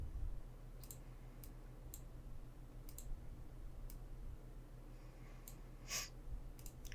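A computer mouse clicks repeatedly while shapes are edited in Illustrator, sharp, faint single and double clicks spaced irregularly over a quiet room hum.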